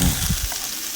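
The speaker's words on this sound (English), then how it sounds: "just keep mixing the garlic with the butter" Garlic cooking in butter in a pan on low heat, stirred, giving a brief close sizzle and frying hiss with a soft stirring scrape.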